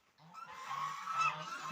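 Several geese honk nearby in overlapping, nasal calls, rising and continuing without pause.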